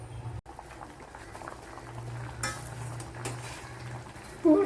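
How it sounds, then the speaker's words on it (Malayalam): Steady, rolling bubbling of water boiling hard in a pot of cauliflower, close and continuous, with a brief metallic clink near the end. "നല്ലപോലെ ഒന്ന് തിളപ്പിച്ച് വേവിച്ചെടുക്കണം"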